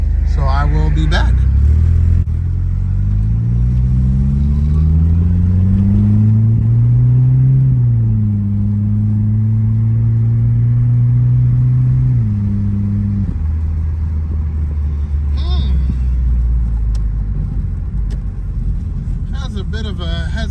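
A Starquest vehicle on a test drive, its engine droning steadily as the pitch climbs through gears, then settles into a smooth constant rumble and fades back down, loud and close throughout.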